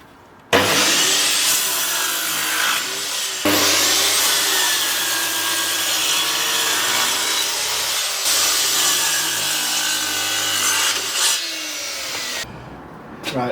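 Wooden boards being cut by hand in a workshop for budget path edging, a steady sustained sawing rasp running near and loud for most of the stretch with brief pauses, no talking.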